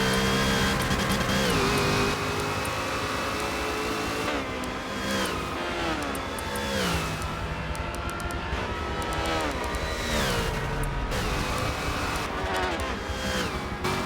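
Ford and Ferrari GT race cars lapping at Road America, loud high-revving engines with shifting pitch as cars pass and change gear, one car following another closely, no talk.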